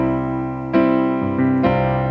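Keyboard plays a sus chord that resolves to the plain major chord, with notes sounding and shifting in a few distinct changes, sustained and clear with no voices.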